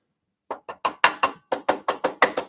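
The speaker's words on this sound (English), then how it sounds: "Just knock out the worst of the waste" Waste wood is knocked out of a drilled wooden vase blank in a workshop, eleven sharp, fairly loud knocks in a quick, slightly uneven rhythm after a brief silence.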